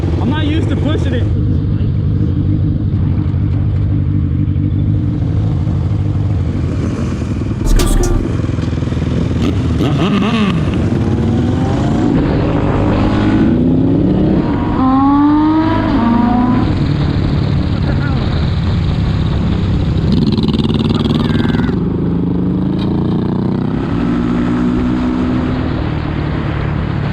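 A motorcycle engine hums steadily while riding, loud and continuous with heavy wind rush and rising and falling revs, and a voice talks over it at times.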